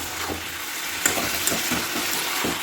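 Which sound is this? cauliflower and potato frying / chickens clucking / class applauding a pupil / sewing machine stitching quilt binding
cauliflower and potato frying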